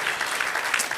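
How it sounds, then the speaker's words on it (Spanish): Church congregation applauding during a worship service, a steady, dense wash of clapping that fills the space evenly without pauses. "Dale un aplauso al Señor."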